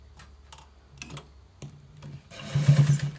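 A sewing machine runs in short bursts while stitching lace into a trouser waistband, with a louder, steadier run of rapid stitching near the end.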